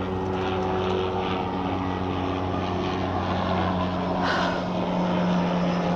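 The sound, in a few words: helicopter flying overhead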